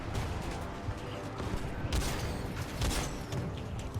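Rapid bursts of gunfire in the video game Titanfall 2, dense crackling volleys layered over a rumbling battle backdrop, with a voice talking faintly underneath.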